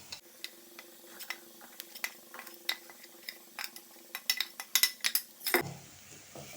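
Ground masala frying in oil with a tempering while a spoon stirs it, steady close sizzling broken by sharp scraping clicks against the pan, getting busier toward the end.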